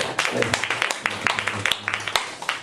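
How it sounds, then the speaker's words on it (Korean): A church congregation at Suwon Saesaemmul Church claps together in steady, dense applause, with murmuring voices and a low hum underneath. "박수를 한번 해야 됩니까?"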